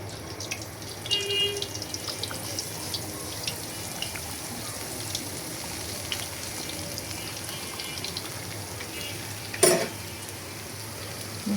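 Food fries and is stirred in a pan while cooking an iftar dish, with continuous sizzling and scraping under a watery, running background, fairly close, and one sharp clatter near the end; no talking.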